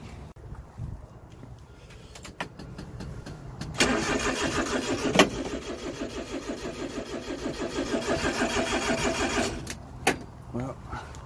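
A Honda Acty mini truck's engine cranks over on a weak battery, a sluggish rhythmic churning that runs several seconds without catching, with brief clicks before and after and people talking nearby.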